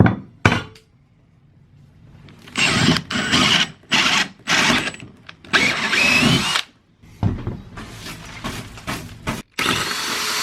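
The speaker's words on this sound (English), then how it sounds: "I'm going to drill these 4 holes first and then drill the center hole last" A power drill bores holes into a trailer floor board while flush mount tie-down anchors are fitted, loud bursts of whining drilling separated by short pauses, close up with no talking.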